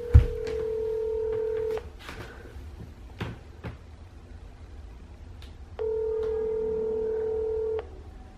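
A telephone being dialed for an outgoing call, with a short burst of touch-tone keypad beeps followed by two long steady tones separated by a quiet gap, all close and clear.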